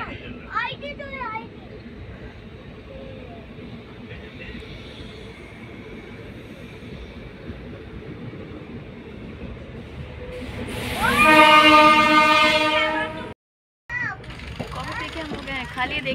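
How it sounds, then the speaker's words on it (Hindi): Moving passenger train leaving Ghaziabad Junction, heard from on board as a continuous low rumble, with a louder screeching, whining surge partway through. People talk over it. "देखिए ट्रेन भी चल रही है।"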